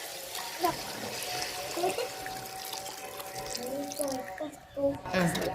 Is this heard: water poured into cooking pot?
yes